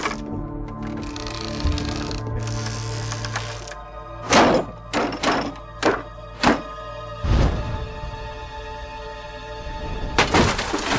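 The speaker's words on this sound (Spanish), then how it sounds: "los expertos modifican el ángulo de tiro e incrementan la tensión lanzando la munición desde más atrás" A ballista firing a projectile at a target about 100 metres away, heard as a series of sharp wooden thunks and cracks from launch and impact, some spaced apart, over a faint background tone.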